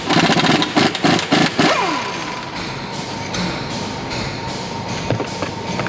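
Power tool rattling off a 21 mm crank pulley bolt on a 7.3 Godzilla engine: a loud burst of rapid impact hammering that stops after about two seconds, followed by a lower mechanical whir and hum.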